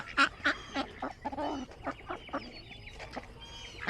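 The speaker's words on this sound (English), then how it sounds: "See, there's that rooster." A farmyard rooster clucks in short repeated bursts with a longer drawn call partway through, fairly near but not loud.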